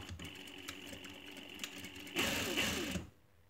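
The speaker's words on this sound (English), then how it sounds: "I'm going to go back here on this corner and just sew a little bit more" Sewing machine briefly stitching a pocket flap corner, a short, quiet burst of motor whir lasting under a second after faint handling noise, then stopping.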